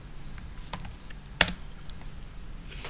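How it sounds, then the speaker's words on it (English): Typing a git clone command on a computer keyboard: a few soft, scattered key taps and one sharper, louder keystroke near the middle, quiet and close, with no talking. "and we will just type git clone,"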